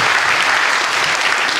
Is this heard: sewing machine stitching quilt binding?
no